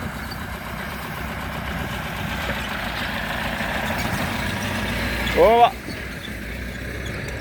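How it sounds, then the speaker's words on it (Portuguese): A large car rumbles steadily as it crosses a damaged bridge in a forest, its engine a constant mid-distance drone, with a brief louder surge near the end and a man's short exclamation. "Vamos ver esse carro passando aí para você ver o perigo que é."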